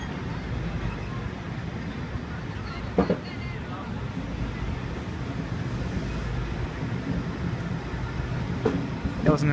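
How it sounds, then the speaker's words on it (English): A Sydney Trains Waratah A01 set departs platform one at Waverton, a broad rolling rumble of wheels and motors with a few sharp clanks and a brief high whine, while a voice talks over it. "Waratah A01, departing platform number one."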